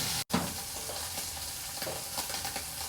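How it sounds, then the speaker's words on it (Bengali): Prawns fry in a hot pan with a steady, close, dense sizzle and crackle that stays loud and even throughout, with occasional stirring and no voices. "একটু ফ্রাই হয়ে যাক"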